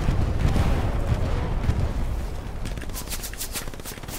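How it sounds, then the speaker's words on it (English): In the trench warfare video game Hell Let Loose, heavy rumbling explosions and gunfire fill the first half, followed by a rapid series of sharp, crackling shots in quick succession, loud and close. "I hear gunfire to the right"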